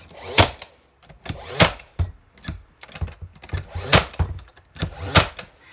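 A nail gun fires nails into the corners of a wooden crate, giving a steady series of loud, sharp bangs about a second apart with softer knocks in between.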